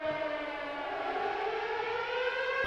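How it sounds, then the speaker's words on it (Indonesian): A civil-defense-style siren sounds in a Squid Game film scene, a steady loud wailing tone holding for a few seconds with no speech. "Tiba-tiba terdengar sirene yang membuat lampu hidup dan peserta yang terbangun"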